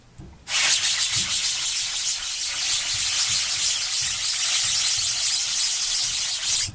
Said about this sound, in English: And we'll want to scrub until we can no longer see the line of where our ink is